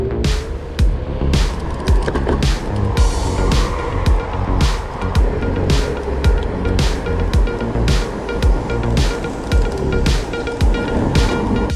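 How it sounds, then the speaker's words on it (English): A Kugoo Kirin M4 Pro dual-suspension electric scooter climbs a steep bridge ramp, giving loud, steady rolling and motor noise with a regular series of sharp clacks, probably from pavement joints, and no talking. "The scooter had no problems climbing this quite steep bridge ramp."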